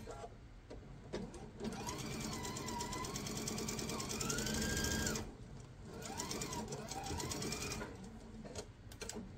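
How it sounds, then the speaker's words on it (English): A sewing machine runs close up, stitching a quarter-inch seam in two long bursts of rapid, even clatter separated by a short pause, with no talk. "And then I'm going to sew my 1/4 inch seam from one end all the way to the other end."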